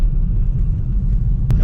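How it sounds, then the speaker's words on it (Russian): Blizzard wind gusts during a snowstorm, where kites are being flown in strong wind, roaring as a loud, continuous low rumble that buffets the microphone for the whole moment. "Вот она и пурга."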